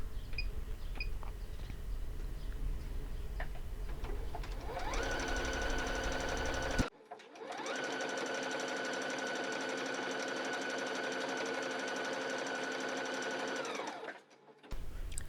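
An EverSewn Sparrow 30S sewing machine stitches decorative patterns, running in two long steady bursts of rapid rhythmic needle clatter and motor whir, close and loud, with a brief pause between them.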